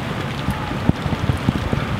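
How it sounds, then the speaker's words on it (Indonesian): Heavy rain falls during an outdoor Friday prayer gathering, a steady close hiss of downpour with scattered louder drops and splashes hitting nearby surfaces, no talk. "Dan kita masih nggak tahu kapan hujannya ini akan berakhir."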